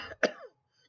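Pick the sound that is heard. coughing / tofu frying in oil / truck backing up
coughing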